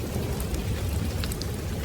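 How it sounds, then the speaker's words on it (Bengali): Heavy evening downpour in a monsoon rainstorm over rice fields, a dense, loud, steady roar of rain with a low rumbling undertone of thunder and no voices. "সকাল থেকেই বৃষ্টি পড়ছে।"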